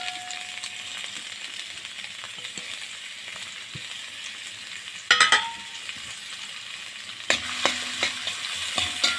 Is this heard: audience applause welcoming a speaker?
no